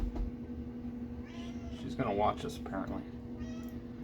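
A pet cat named Beans meows close by, with a couple of short, clear meows following one another and a softer one near the end, while a person talks over and around them.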